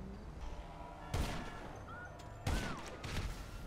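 Gunfire and explosions from GTA 5 Online in a gameplay session, with two loud sharp blasts standing out over a continuous rumble of distant shots and battle noise.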